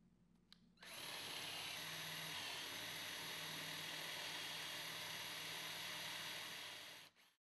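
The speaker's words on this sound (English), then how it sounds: "Drill a 5/8-inch diameter hole," A power drill bores a 5/8-inch hole, half an inch deep, during Murphy bed construction: a steady, close, high-pitched whir starts abruptly, holds for about six seconds, then winds down and stops, with no talk.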